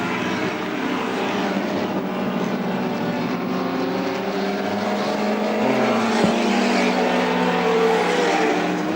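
Loud, steady roar of a six-cylinder BMW and V8 Falcon touring cars racing at high revs in 1984 at Lakeside, engines droning together continuously, with a brief gear-change dip near the end.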